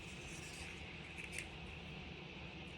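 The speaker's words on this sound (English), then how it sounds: "now what we have here is we can use just a tiny pair of scissors" Small scissors snipping paper for a floral scrapbooking layout, a faint, steady rasp of cutting with one slightly sharper snip near the middle, quiet and close with no talking.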